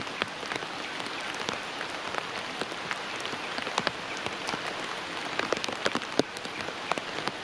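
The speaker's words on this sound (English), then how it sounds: "Suddenly the rain got worse." Heavy rain pours steadily in orangutan forest habitat, a dense continuous hiss with scattered sharper drops pattering on leaves and surfaces nearby, no voices.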